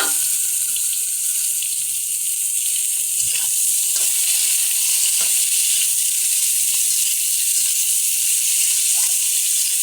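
Onion, potato and ridge gourd frying in oil with dried chilli, a loud steady hiss of sizzling throughout, with a few soft scrapes of stirring near the pan.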